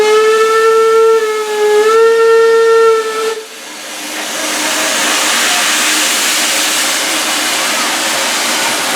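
A steam locomotive on the Kent and East Sussex Railway sounds its whistle loudly for over three seconds in a rich, slightly wavering chord, then gives way to a strong sustained roar of escaping steam.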